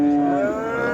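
An ox moos once in a long, low, steady call at a busy livestock bazaar in Shahrisabz, loud and close with little else around it.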